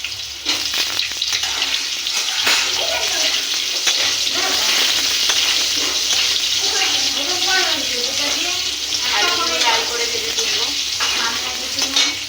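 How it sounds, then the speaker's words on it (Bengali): Potatoes frying in a pan give a loud, steady sizzle throughout, with a voice speaking over the crackle partway through. "এবার আলুগুলো ভেজে নেব।"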